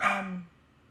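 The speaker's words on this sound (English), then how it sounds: "I apologize for the dogs." A single short dog bark, close and fairly faint, fading quickly into quiet.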